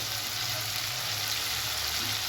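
Chopped medium tomato tipped into spiced masala frying for a bhetki fish-bone curry, giving a steady, close hiss of oil sizzling evenly throughout with no voices.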